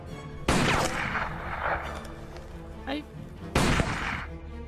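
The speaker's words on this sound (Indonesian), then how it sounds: "Zarin lalu melatih Husain membidik target di sebuah tempat latihan menembak" Gunshots at a shooting range in an Iranian sniper film: two sharp, loud broadband blasts about three seconds apart, each followed by ringing decay over a dense musical score.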